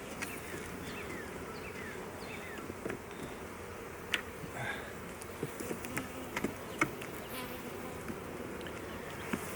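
Honey bees hum steadily in a dense, close swarm while a hive is opened and inspected, with scattered louder buzzes as individual bees pass nearby.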